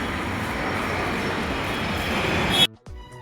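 A train rumbles steadily at Bidar railway station in a loud, broadband roar that holds for a few seconds and then cuts off abruptly, with some muffled noise left after.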